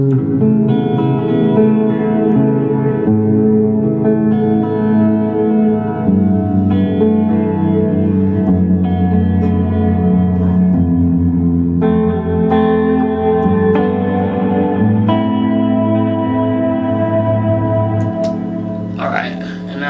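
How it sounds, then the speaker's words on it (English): An electric guitar played through a budget tube amplifier with added reverb, sustained chords ringing out and lingering in a wash of echo. "So this is just adding a little bit of additional reverb."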